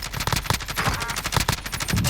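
Rapid bursts of automatic gunfire in the online shooter Warzone, close and loud, firing in quick repeated volleys throughout with no talk over it.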